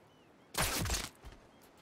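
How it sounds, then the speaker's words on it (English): A single gunshot in the Sniper Elite 5 video game, a short loud blast with a brief echoing tail, otherwise quiet. "Gunshot heard."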